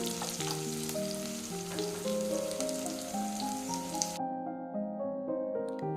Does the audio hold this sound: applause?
no